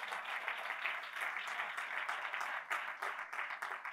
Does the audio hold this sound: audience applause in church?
yes